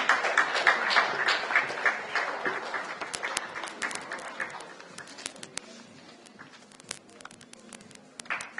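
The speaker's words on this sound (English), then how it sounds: "a big round of applause, ladies and gentlemen, for Mr. Patrick Tessier" An audience at an automotive dealers' association event in Delhi applauds, a burst of crowd clapping that is loudest at the start and tapers into scattered, distinct claps.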